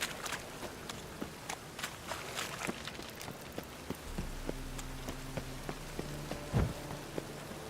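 Dense, steady video game rain pours down throughout, with scattered drops and soft footstep-like thuds, joined later by a low hum.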